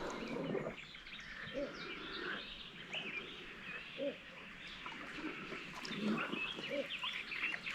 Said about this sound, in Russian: Какая-то птичка, я так понимаю.